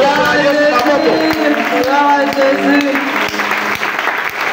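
A church congregation at a French worship service bursts into sustained applause and cheering for Jesus, loud and close, steady dense clapping with some voices and shouts riding over it.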